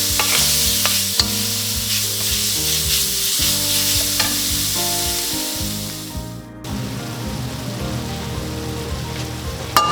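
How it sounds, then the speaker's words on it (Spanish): Chicken pieces stirred constantly in a pan with very little oil, a steady loud sizzle with repeated scraping strokes of the utensil throughout, briefly dipping near the end before resuming. "Moverlo constantemente para que el pollo no se nos pegue"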